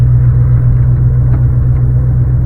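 A 1989 Chevrolet Corvette C4 with a six-speed manual, heard driving from inside the cabin: a steady, loud, low engine drone with a constant rumble and no voices.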